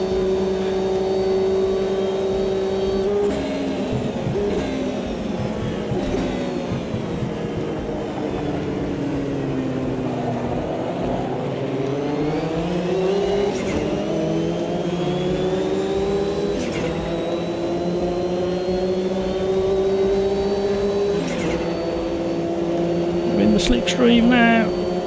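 Racing car engines in the Automobilista 2 sim during community online racing drone and shift pitch nearby throughout, with steady revving tones rising and falling while someone talks over them.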